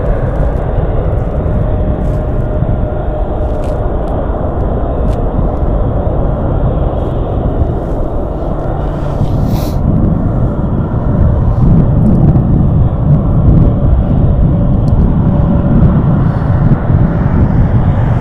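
An American Airlines jet taking off at Las Vegas Harry Reid International Airport, a loud, steady broadband engine roar that holds throughout and swells slightly toward the end.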